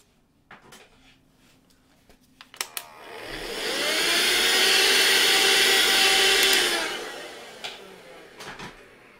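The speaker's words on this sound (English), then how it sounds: "Wow, I might even have to vacuum that." A vacuum cleaner switches on and runs steadily for a few seconds at close range, a loud whining drone that winds down afterward, with light clicks and knocks of handling around it during a pastel art session.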